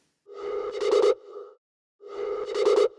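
Two matching phrases of a synth note sweep brighter and gritty with distorted bite, separated by a short silence, close and unaccompanied.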